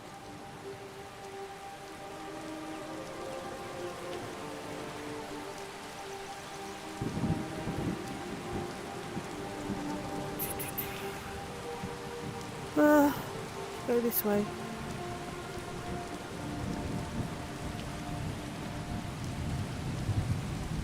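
Rain and a thunderstorm in Skyrim VR: a steady hiss of rainfall with a low rumble of thunder partway through, while someone speaks briefly over the weather.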